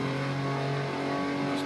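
A racing car on the Nürburgring powers out of a corner, its engine note loud and close, holding a steady high drone that shifts slightly in pitch as it accelerates.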